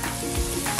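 Ginger sautéing for chicken tinola, a steady close sizzle in a hot pan that holds evenly throughout, with a brief stir-like bump midway and no voices.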